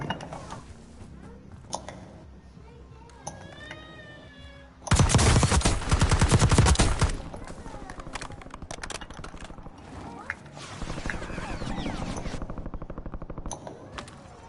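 Intense bursts of automatic gunfire in the video game Warzone (Black Ops 6), one loud sustained volley in the middle followed by further rapid shots, with in-game radio voices and effects around it.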